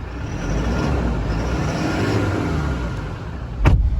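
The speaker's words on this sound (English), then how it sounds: "Give it a bit of a rev so you can hear it." A Toyota Land Cruiser Prado engine runs loudly nearby with a steady rev that rises and holds, ending in a sharp click.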